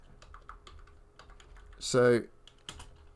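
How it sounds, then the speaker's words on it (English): A computer keyboard is pressed in scattered light clicks while entering shortcut keys, with a short spoken word in the middle. "I'm just pressing Control G."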